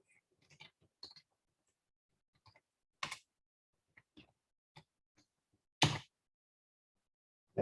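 Sparse keystrokes on a laptop keyboard while entering data into a spreadsheet: a few soft taps in small clusters, then several louder isolated clicks, close and quiet with long gaps between.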